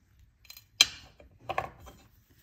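A pair of cutters snaps through thin jewelry wire while a wire-wrapped encased pendant is being made, giving one sharp close click followed by a few softer clicks and handling noises in a quiet room.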